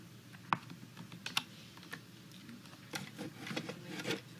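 A few scattered key presses on a computer keyboard, sharp isolated clicks at irregular intervals, fairly quiet in a room with no talking.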